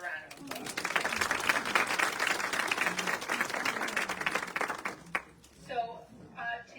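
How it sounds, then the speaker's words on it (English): Audience applause at a store style show in Peoria, Illinois rises into a dense, crisp clatter of clapping, then fades out and gives way to a voice speaking near the end. "let's give them both a round of applause"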